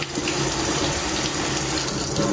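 A tap runs water to water dried-out plants, a strong, steady close gush of flowing water with no voices.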